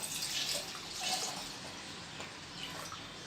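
Warm milk poured into a lota from a little height, a continuous close splashing liquid stream that swells and eases.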